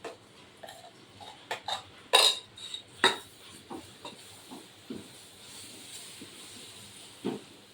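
Ground masala paste being sautéed in a pan, with intermittent metal spoon clanks and scrapes against the pan over a soft, steady hiss of cooking.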